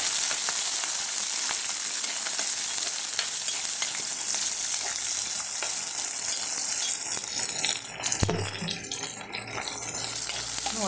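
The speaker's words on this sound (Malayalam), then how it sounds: "എന്നിട്ട് ചെറിയ ഉള്ളി, 2 പച്ചമുളക്, മാങ്ങ, ഒരു മാങ്ങ ഇതും കൂടെ ഇട്ട് നമ്മൾ ഇത് വഴക്കണം." Shallots, green chillies and mango sauté in hot oil after mustard seeds for a sardine and mango curry, making a loud, steady sizzle throughout, with a few close utensil clinks and stirring scrapes near the end.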